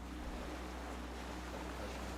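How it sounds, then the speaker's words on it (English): Soft, steady ocean wash with a low rumble in a quiet game soundtrack from Disco Elysium, faint and continuous, with a harbor bell meant to sit in the background though no bell strikes stand out. "It's like a faintly sort of sound of the ocean and like a harbor bell in the background."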